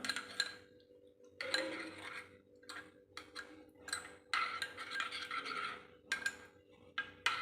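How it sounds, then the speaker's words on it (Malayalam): A spoon stirs salt into an Onam sadhya dish, giving intermittent scraping and clinking taps against the pot in irregular bursts, quiet and close with no talk. "നല്ലോണം ഒന്ന് ഇളക്കി കൊടുക്കാം"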